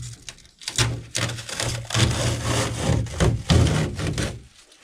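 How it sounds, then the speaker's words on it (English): Close, rough scraping and creaking as an interior panel is pried and pulled loose from a VW Transporter T5 van, with bursts of rubbing and tearing in an uneven rhythm. "here we have the panel that I'm obviously stripping off at the moment"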